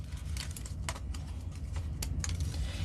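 Die-cut paper pieces are popped out of a card kit, heard as a few close, crisp paper snaps and crinkles over a quiet background.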